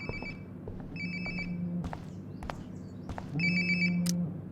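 A phone rings nearby in the Life is Strange: Before the Storm game, bursts of an electronic ringtone repeating in short regular pulses over quiet room ambience, the last ring louder and closer.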